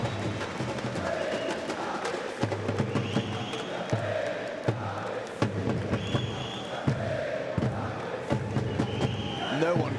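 A large Brazilian crowd at a Counter-Strike esports group-stage match roars and chants steadily in a big arena, with rhythmic thumps and a commentator speaking over it.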